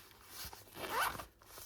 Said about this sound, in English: does it zip really good by itself?